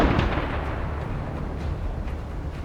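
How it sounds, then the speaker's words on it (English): Continuous heavy rumble of deck gun fire from a U-boat in a submarine video game, aimed at a tanker, with dense booming blasts blending into a steady roar, no voices. "I get ready to bully it with my deck gun"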